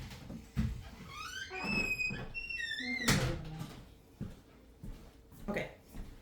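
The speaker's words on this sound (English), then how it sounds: "I'm going to go ahead and close the door so I can just face it" An indoor door swings shut with a squeaking creak and a firm close thump near the middle, amid quiet room noise, soft knocks and a high chirping squeal, no speech.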